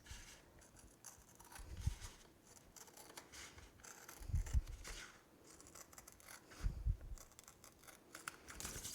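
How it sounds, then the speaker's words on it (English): Close, quiet snips of scissors trimming a heat-transfer design right to its edge, heard as a few short cutting strokes separated by soft rubbing and handling of the material. "I'm just trimming right to the edge"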